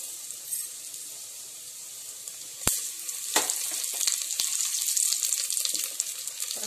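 Fenugreek seeds fry in hot sesame oil in a clay pot with a steady, close hiss that builds into louder crackling after a sharp sputter partway through, with no talking.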